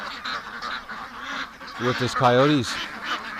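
Ducks in a barn give a short run of loud, nasal honking quacks midway, over a low room hum, with a person talking nearby.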